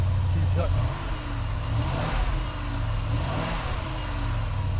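A 6.4 litre Hemi car engine, long unstarted, idles loudly and steadily as it warms up after starting, a deep continuous rumble with slight revving swells throughout.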